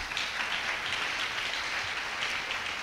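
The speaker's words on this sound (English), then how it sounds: "Why not clap the hand for Jesus?" A church congregation claps during a prophetic sermon, a continuous wash of many hands at even loudness throughout. It sounds like a large crowd heard from a moderate distance, with no speech over it.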